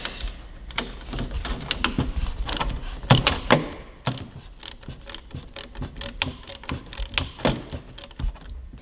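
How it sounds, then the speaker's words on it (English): A wrench clicks and ratchets in short irregular bursts while tightening the bolt of an aftermarket Norton Motorsports brake lever on a Kawasaki Ninja 400, with metallic taps and creaks close up. "Make sure you have a backup wrench."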